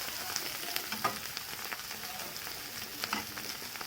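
Onions and coriander fry in a pan for a taro dish, giving a steady, close sizzle with soft crackles and occasional stirring clicks, and no talking.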